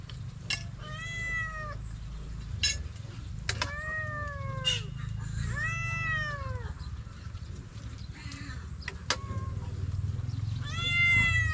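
A cat meows repeatedly indoors during a meal on a rainy day, several drawn-out, close meows spaced a second or two apart over a low steady background hum and faint clatter.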